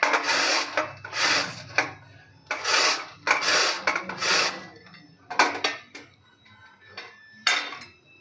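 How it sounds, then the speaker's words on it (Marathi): Peeled raw mango is rubbed against a large grater in repeated, rhythmic rasping strokes, close and fairly loud, with short pauses between strokes. "मोठ्या किसणीने आपल्याला किसून घ्यायचं आहे।"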